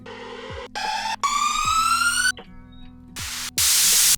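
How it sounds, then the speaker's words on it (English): White-noise uplifter and riser effects from the Alien Rave sample pack in an electronic track. Rising tonal sweeps over a pulsing low line give way to bright, loud bursts of hissing noise that build toward the end, with no vocals. "And we got all these uplifters."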